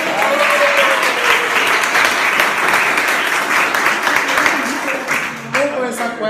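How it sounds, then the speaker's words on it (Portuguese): An audience at a live network-marketing talk applauds a man called up to the front, dense continuous clapping that stays loud and close for several seconds and fades slightly near the end, with a voice briefly audible at the close. "Uma salva de palmas para o Edson."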